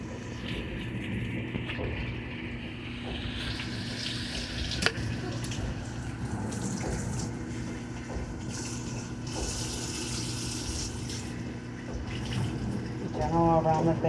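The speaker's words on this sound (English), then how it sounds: "So we run the water on the dogs." Tap water runs over a dog during a bath at a grooming session, a steady, fairly quiet splashing and trickling stream that continues unbroken with small bursts of movement.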